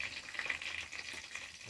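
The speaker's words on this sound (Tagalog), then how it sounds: "nagpiprito po tayo ng saksakan ng tabang tilapia" Tilapia frying in hot oil, a faint steady sizzle and crackle with soft popping, heard close and continuous with no talking.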